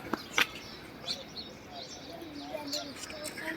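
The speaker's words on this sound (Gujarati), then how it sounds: "ચકલી એટલી બધી બોલે છે" House sparrows chirp from a village rooftop in the morning, quick scattered high calls with a few sharper notes near the start, fairly close amid light outdoor background noise.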